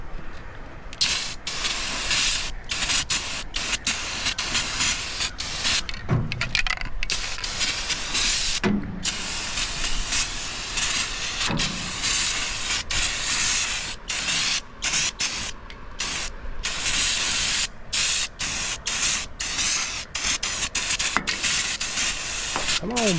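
Rust-Oleum Turbo spray paint hisses out of an aerosol can onto a custom car trailer in repeated close, loud bursts separated by short pauses.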